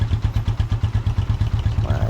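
A Honda TMX 125 Alpha motorcycle engine runs close by at a steady idle, its even thumping beat repeating rapidly and evenly throughout.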